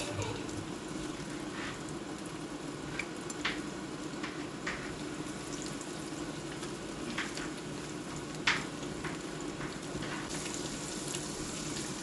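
Pakoras of ground chana dal, onion and coriander fry in hot oil, giving a soft, steady bubbling sizzle with a few faint clicks and taps, fairly quiet throughout.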